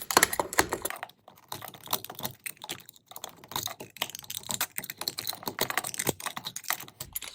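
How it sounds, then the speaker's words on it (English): A blade cuts through old paint on an aged wooden window frame, making a rapid series of close scratchy clicks and scrapes in uneven bursts with brief pauses. "Just cut the paint."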